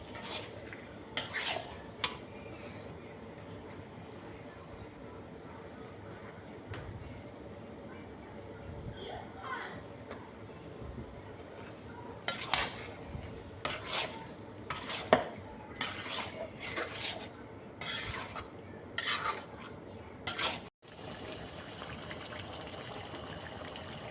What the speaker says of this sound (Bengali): আজকে রান্না করতেছি বিরিয়ানি।